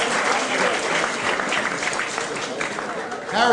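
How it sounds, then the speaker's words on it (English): Audience applause for a comedian at a comedy show, dense clapping close and loud throughout, swelling slightly at the very end, with no clear speech over it. "give him a round of applause"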